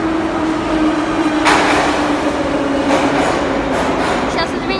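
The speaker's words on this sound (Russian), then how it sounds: "Сейчас, извините, поезд проедет." A metro train runs through Gorkovskaya station, a deep pylon-type station 53 metres underground, with a loud continuous rumble and rattling wheel noise, close and steady throughout.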